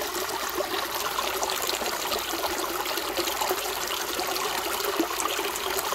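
Stream water pours steadily out of the end of a gold-prospecting sluice in a creek, a continuous close rushing trickle with no talking over it.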